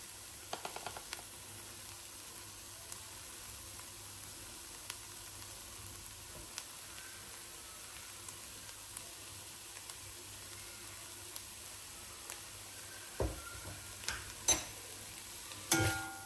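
Chicken breast with black and red pepper and a little oil fries quietly in a pan, with a faint sizzle, sparse light ticks and a few louder stirring knocks near the end.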